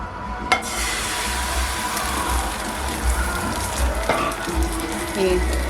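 An egg frying in a very hot pan: a loud, steady broadband sizzle that runs throughout, with a couple of sharp ticks and a faint voice in the background.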